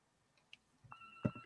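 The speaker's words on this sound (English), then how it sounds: "Oh, there's the phone." A household telephone rings faintly in another room. Soft electronic tones sit over a quiet background, with a brief louder knock near the end.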